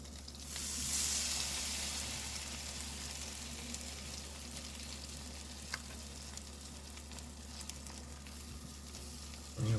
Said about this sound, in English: Take that French toast, dip it on both sides, and in she goes.